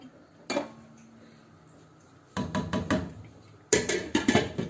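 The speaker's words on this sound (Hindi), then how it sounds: "अब इसको मैं ऊपर से ढक रही हूं।" A lid is set onto a pot of butter chicken, giving a sharp metal clank, then a run of rattling knocks and clinks, and another clattering set of taps, close and distinct.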